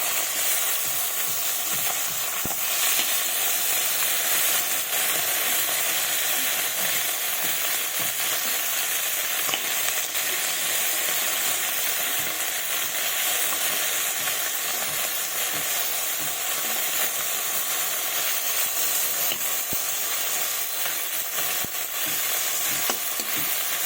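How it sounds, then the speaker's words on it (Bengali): Fish frying in oil in a pan, a steady, even sizzle and crackle that runs unbroken for the whole stretch, fairly close and with no talk over it. "আরও কিছুক্ষণ এদিকে লাল লাল করে ভেজে নেবো এই পিঠটা"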